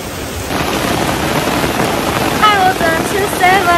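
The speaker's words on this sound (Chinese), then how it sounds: "结果下暴雨" Heavy rainstorm in Kaohsiung pours down in a loud, continuous roar of rain, with a few faint voices rising briefly near the end.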